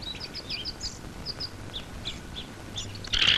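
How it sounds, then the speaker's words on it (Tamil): Sparrows chirp and tweet in a rapid series of short, high calls, ending in a louder burst like wings flapping as they fly out of a nest built in a man's hair, with soft background noise throughout. "என்னடா தலையில கூடு கட்டி குருவி எல்லாம் பறக்குது"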